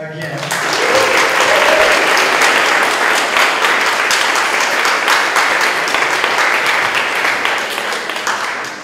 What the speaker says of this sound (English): Let's hear your biggest applause for Michael and Joe once again.